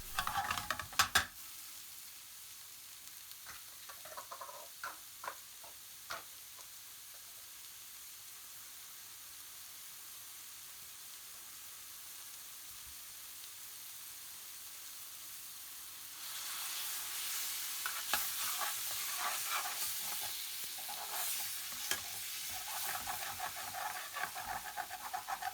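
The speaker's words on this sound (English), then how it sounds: "Add the fresh tomatoes and cook for another 30 seconds, adding more base gravy if required." Fresh tomatoes cook in a pan of dopiaza curry in British Indian restaurant style, a steady low sizzle and hiss. Spoon scrapes come near the start, and the frying grows louder and brighter in the final third.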